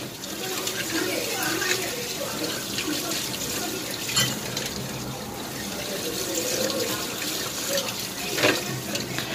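Tap water runs steadily into a sink while chopsticks are rinsed, a continuous near splash with a few clacks of wood.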